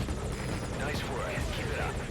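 A helicopter in Metal Gear Solid V: Ground Zeroes, its rotor churning in dense broadband noise beneath combat sounds and speech that carry on throughout.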